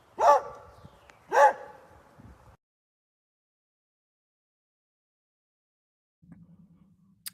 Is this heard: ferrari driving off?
no